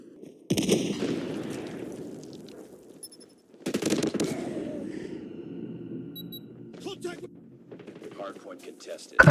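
Bursts of automatic gunfire in Call of Duty Mobile: two loud volleys at the start and midway, then scattered softer shots, with a sharp final burst at the end.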